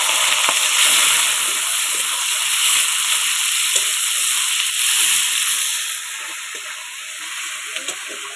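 Loud, steady sizzling and hissing of onions frying in hot oil fills the whole stretch, easing slightly toward the end.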